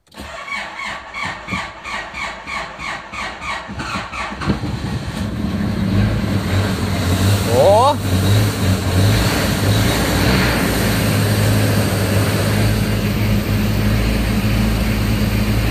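Ford Maverick engine cranking with a rhythmic starter whir for several seconds, then catching and settling into a steady idle nearby, with a brief squeal partway through.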